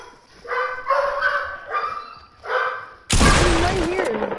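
A dog in a video game gives several short, repeated barks and yips, then a loud, harsh burst of game noise crashes in and stays to the end.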